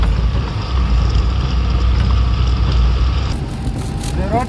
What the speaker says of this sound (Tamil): இந்த மேட்டில் ஏற மாட்டேங்குது மக்களே வண்டி